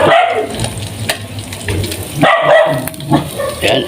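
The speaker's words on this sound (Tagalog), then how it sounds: "pasasya na po kayo sa tahol ng aso" A dog barks several times in a home kitchen while fish is frying, the sharp barks cutting over a continuous sizzle and clatter of cooking, with no talk.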